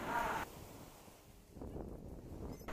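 Surf washes in a steady rushing roar on a Goa beach, with wind buffeting the microphone and no one speaking.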